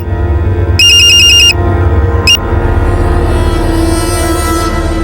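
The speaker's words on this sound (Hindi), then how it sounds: "बात कर, उठा फोन।" A phone rings in a room with a steady hum: one electronic ringtone burst of under a second, then a brief second chirp, with no talking over it.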